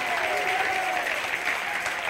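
A church congregation claps loudly and steadily during an evening worship service, a dense continuous wash of applause with a faint sustained tone running underneath.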